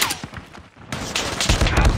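Rapid bursts of automatic gunfire in Call of Duty Mobile, dense overlapping shots loud and close, with a brief lull before heavier fire resumes.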